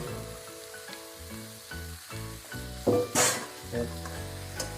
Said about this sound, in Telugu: మ్యాగ్నేట్ చేసిన చికెన్ వేసుకుందాం